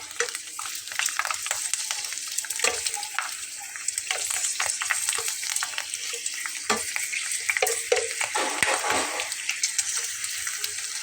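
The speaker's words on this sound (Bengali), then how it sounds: "ছোট্ট ছেলেটার জন্য কয়েকটা চিপস ভেজে নেব।" Store-bought potato chips frying in hot oil, a dense continuous crackling sizzle close up, with scattered pops and occasional stirring clinks throughout, no voices.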